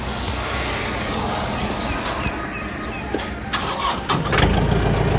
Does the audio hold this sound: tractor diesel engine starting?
yes